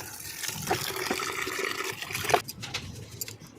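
Running water splashes and gushes steadily as household items are rinsed clean at home, with a brief louder surge partway through and no talking.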